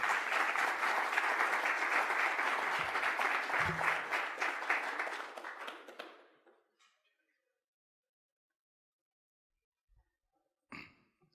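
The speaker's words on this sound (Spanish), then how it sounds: "Un fuerte aplauso." An audience at a Panamanian sports forum applauds loudly and steadily for about six seconds as a guest is welcomed to the stage, then the clapping dies away to near silence with a couple of faint knocks near the end.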